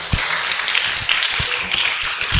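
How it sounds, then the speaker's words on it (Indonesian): Applause for a speaker at an Islamic religious lecture, a dense, even wash of clapping from a crowd throughout, fairly loud and close, with no speech over it. "tepuk tangan untuk Santi Adikro"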